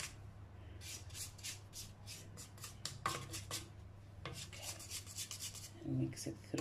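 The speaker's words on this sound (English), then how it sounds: "Just going to take my spatula here and just gather all this together" A spatula scrapes around a bowl, gathering cake batter in quiet, repeated rasping strokes with occasional light knocks against the bowl.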